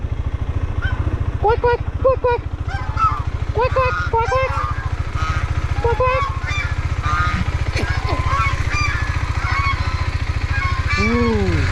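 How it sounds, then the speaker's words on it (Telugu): Honking swan calls ring out repeatedly over a loud, steady engine drone, close and overlapping, with hens clucking mixed in. "చూడండి, మొత్తం హంసలు అయితే ఉన్నాయి."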